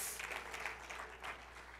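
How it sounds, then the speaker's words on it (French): Faint, distant applause from part of a church congregation, a soft, steady patter of many hands spread across the hall without clear individual claps. "La moitié applaudit"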